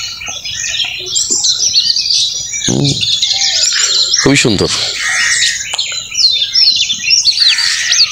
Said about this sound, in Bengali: ওই যে পাখির কিচিরমিচির শব্দ শোনা যাচ্ছে।